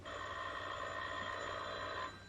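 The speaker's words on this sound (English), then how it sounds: "Someone's on the phone." A telephone bell rings steadily in an indoor room, a continuous metallic trill that stops abruptly near the end, with no talk over it.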